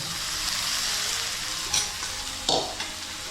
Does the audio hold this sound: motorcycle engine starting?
no